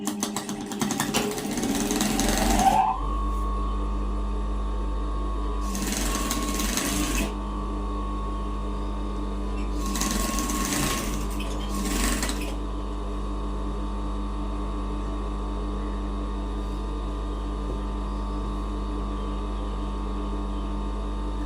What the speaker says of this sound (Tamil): அதை வந்து முதல் மடித்து தைக்க வேணும்